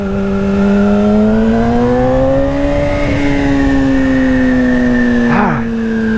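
Yamaha R6 sport motorcycle ridden on the road, its engine holding a steady, close, loud drone that rises and falls slightly in pitch, with a brief rush of wind near the end.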